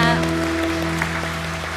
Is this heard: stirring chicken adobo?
no